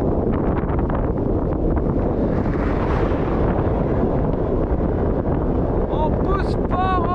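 Strong headwind buffets the microphone while bikepacking on a road near Montebello-Gatineau, Canada, a loud, constant low roar throughout, with a few faint tonal squeaks near the end.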